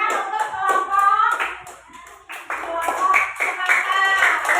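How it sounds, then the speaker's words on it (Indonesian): A group of people claps together in a bright, rapid burst that stops briefly and then starts up again, close and loud in what sounds like a room. "Beri tepuk tangan untuk kelompok"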